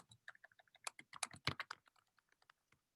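Rapid computer-keyboard typing as a footnote is entered into a course catalog editor field, a close, steady patter of key taps that bunches into a quicker, louder burst midway, then slows to scattered single presses.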